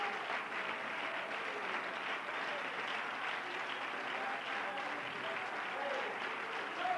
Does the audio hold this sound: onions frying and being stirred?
no